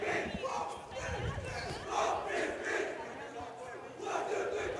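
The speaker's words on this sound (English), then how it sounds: "as you see and hear that big cheer from those Snohomish boys" Snohomish high school soccer players shouting a group cheer on the field before a match against Arlington, a rhythmic burst of voices heard at a distance, fairly faint.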